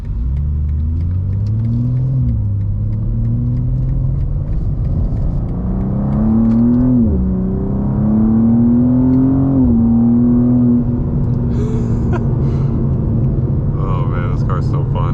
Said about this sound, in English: because it's kind of hard to make this engine sound good